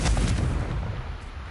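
Confringo fire spell blasting in Hogwarts Legacy on PS5, a loud booming burst that hits right away and rolls into a rumbling decay, with no voices.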